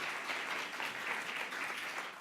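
An audience at a speaker-series panel event applauds, a brief dense burst of steady clapping heard alone without talk.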